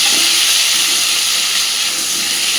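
Thick-cut potato chunks fry in hot oil for a rohu fish kalia, a loud, close, continuous sizzle that holds steady from start to finish with no talking.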